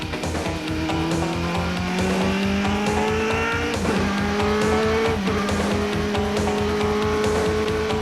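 A Penske Racing race car engine roars steadily nearby, its pitch climbing and then dropping sharply at two gear shifts before rising again.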